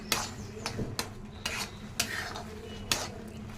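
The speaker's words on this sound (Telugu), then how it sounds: "ఆ పేస్ట్ కూడా వేసేసి బాగా కలిపేసేయండి" A spoon stirring tomato, garlic and onion paste into a soya chunk curry in a pan, with a soft sizzle underneath and about six sharp metal scrapes and clinks at irregular intervals.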